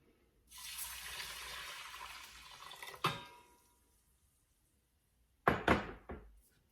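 Three cups of water pour steadily into a pot for a few seconds, followed by a sharp clank and then a couple of quick metallic knocks.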